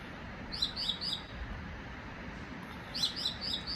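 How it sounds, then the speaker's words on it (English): Two birds chirp and squawk in short bursts of three or four quick calls, one cluster early and another near the end, over a low steady outdoor hum. "It seems to be these two birds wherever I go. They're sitting on my shoulder, and you know, whether they're squawking and quacking at me"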